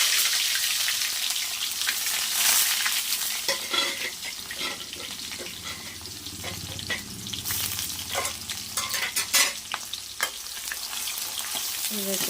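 Large-cut onions frying with mustard seeds in a pan for a chicken curry, a continuous close sizzle and crackle with intermittent stirring scrapes and no talking.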